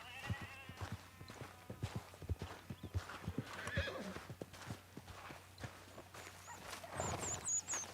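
Hooves clip-clop in a quick trotting rhythm in Red Dead Redemption 2, then a horse lets out a clear whinny, with faint high chirps near the end.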